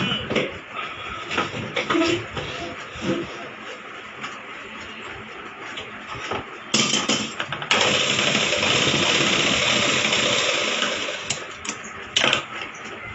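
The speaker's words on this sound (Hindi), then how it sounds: "इसमें भी हम डबल सिलाई कर देंगे, एक आधे इंच के इंटरवल पर" A sewing machine runs double stitching along a blouse seam, whirring in short bursts and then in one long steady run, close by with some background noise.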